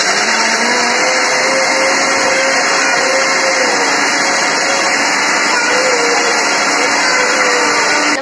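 A mixer grinder blends dates with milk in a loud, steady, continuous whir that holds for the full length of the clip and cuts off sharply at the end.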